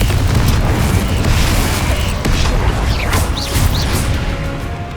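Confringo fire-blast spell in Hogwarts Legacy detonating in a loud, close boom, followed by roaring, crackling blast noise that slowly tapers off, with faint whooshing spell effects on top.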